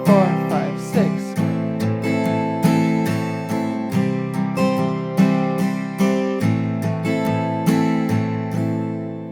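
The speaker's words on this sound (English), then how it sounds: "Next, what we can do is add some up strums." Acoustic guitar strumming a song in 6/8 time with added up strums, the chords ringing in a steady, even rhythm of regular strokes, close and clear with no voices.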